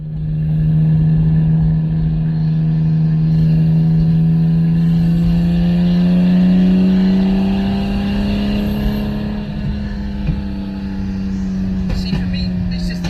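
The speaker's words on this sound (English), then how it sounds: "See, for me, this is the engine choice because it makes the right sounds." An LB Cars Lancia Stratos replica's engine runs close by, loud and steady, its pitch rising slightly and then settling, with a few faint clicks near the end.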